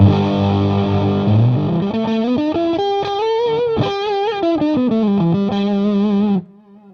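Electric guitar played through a Strymon Sunset pedal on its JFET overdrive setting, giving a mild boost with light grit. A run of close, loud picked notes and chords rings out, then cuts off near the end.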